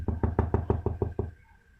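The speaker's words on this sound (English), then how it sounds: "Then came a tip-tapping at the door." A rapid series of about eight light, evenly spaced knocks taps on a door, close and clear, before fading into quiet.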